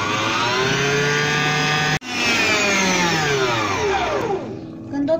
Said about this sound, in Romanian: Deci acum mergem să batem frișca.